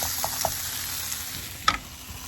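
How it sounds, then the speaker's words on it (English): Potatoes toasting in a hot pot for albondigas soup, a soft continuous sizzle broken by a few stirring clicks and one sharper scrape near the end. "So we're going to let that kind of toast up a little bit there"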